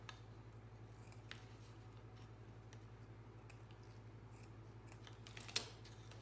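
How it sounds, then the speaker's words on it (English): Scissors snip a ribbon bow on a handmade wooden Christmas tag ornament, faint close clicks over a quiet steady hum with one sharper cut near the end. "I'm gonna trim my bow up just a little bit."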